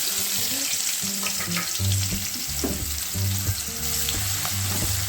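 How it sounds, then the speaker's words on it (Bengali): Onions sizzle steadily in hot oil left from frying fish, a continuous crackling hiss with occasional stirring, while soft melodic music plays underneath. "এবার আমি ভেজে নেব ওর মধ্যে ওই মাছের তেলের মধ্যে পেঁয়াজগুলো"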